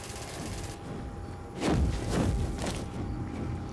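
Distant gunfire crackles in the Dust 514 video game: a low rumble of shots and thuds builds midway, with a few sharper cracks over a steady hum of background noise.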